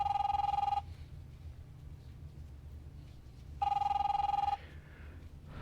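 Telephone ringing in The Wolf Among Us: two loud electronic ring bursts about three seconds apart over a low background hum.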